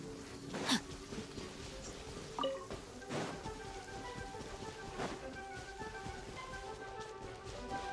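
Rain falling in the video game Genshin Impact, a quiet steady patter with a few brief louder splashes or rumbles scattered through, faint and without speech.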